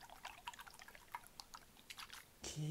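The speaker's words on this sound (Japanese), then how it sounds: "水の音" Soft, irregular drips and splashes of liquid patter quietly and close up from a squeeze-slime toy, ending in a sudden louder rush of noise.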